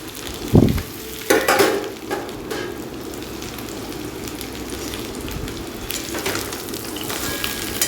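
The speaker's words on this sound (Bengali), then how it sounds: "এবারে কিছুক্ষণ নাড়াচাড়া করব" Fried banana, lentil dumplings and fried vegetables such as eggplant, okra and bitter gourd sizzle in a pan as they are stirred, with a few louder scraping stirs early on over a steady frying hiss.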